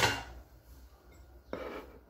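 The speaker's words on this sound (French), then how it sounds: "Je mélange le tout ensemble." Turmeric face mask being stirred with orange juice in a bowl, quiet close clinks and scrapes of a utensil against the dish, one at the start and another after a pause, with no talk.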